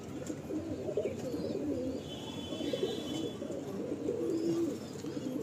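Kalsira pigeon cooing repeatedly in a loft, a steady run of low, throaty coos with a faint higher chirp drifting in behind, continuous and close throughout.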